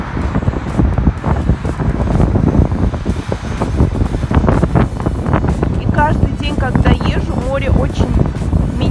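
Strong wind blustering across a microphone at the seaside near Sumgait, a steady loud rumbling roar throughout with voices talking briefly underneath.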